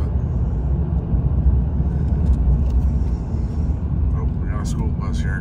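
A 2019 Ram 2500 with a Cummins diesel engine driving on local roads, heard from the cab as a constant deep engine and road rumble, with brief clicks and ticks near the end.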